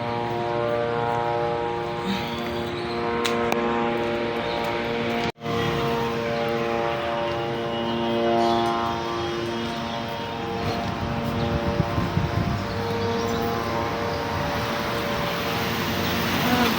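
A loud, steady droning hum with layered tones from a drone flying close by holds for the whole stretch, broken once by a brief sharp dropout.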